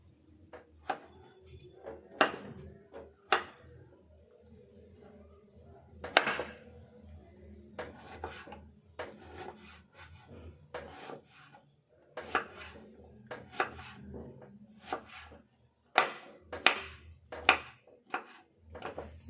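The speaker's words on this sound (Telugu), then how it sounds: "ఫస్ట్ ముక్కలన్నీ సొరకాయ ముక్కలు ఇట్లా సన్నగా తరుక్కోవాలి." A knife chopping bottle gourd into thin pieces on a board, with irregular sharp taps and knocks at close range, each one followed by quiet gaps.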